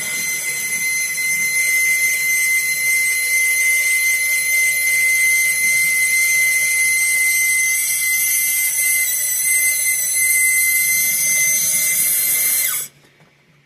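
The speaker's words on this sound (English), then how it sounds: "The motor seems to be running strong and steady." The small motor and crank mechanism inside a 1960s Korean-made Moon-1 toy spaceship run with a loud, steady, high-pitched electric whine close by, then cut off abruptly near the end.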